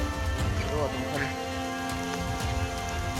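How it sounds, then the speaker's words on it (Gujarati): Rain patters steadily on a slippery mountain trail on Girnar, a soft, constant hiss close by, with faint voices and scattered small sounds underneath. "એમાંય તે વરસાદ ચાલુ છે ને એટલે પગ લપટે છે."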